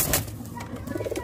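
Soft, low pigeon cooing from a Jammu pigeon loft, a short murmuring call repeated over a moment, fairly close and alone without talk.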